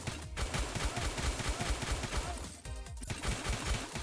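Rapid gunfire rattles in the cute-styled mobile RPG shooter Droid Gunner, a dense, steady stream of loud shots with a brief gap near the end and no speech.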